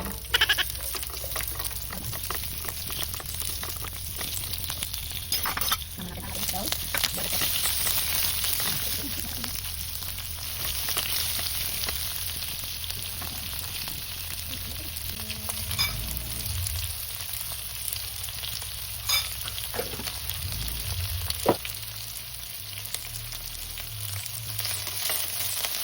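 Onion frying in a pan for a chicken, cauliflower and broccoli stir-fry: a steady, close crackling sizzle lasting throughout, with occasional stirring clicks and scrapes.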